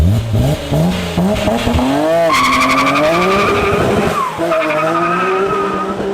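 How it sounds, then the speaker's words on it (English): A Nissan Skyline R34 GT-R engine with a changed exhaust revs loudly on a dyno, its pitch climbing sharply, then holding high and easing off, close and alone. "we got the R34 GTR on the dyno, and we're gonna be playing with it a little bit today"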